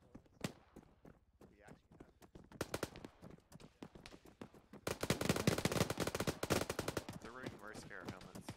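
Rapid bursts of automatic machine-gun fire during a military-style operation, mostly sporadic sharp reports that turn into dense sustained firing in the second half, with voices talking over it.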